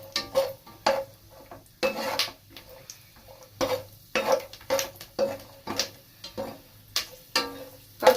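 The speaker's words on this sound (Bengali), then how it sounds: "চিনে বাদামটা অল্প একটু ফ্রাই হতেই কাজু বাদামটা দিয়ে দিলাম।" Peanuts and cashews being stirred in a frying pan, a steady soft sizzle broken by repeated scraping and clinking strokes of a utensil against the pan every half second or so.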